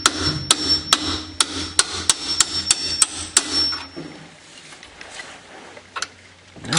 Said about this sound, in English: so you need to tap the bolt in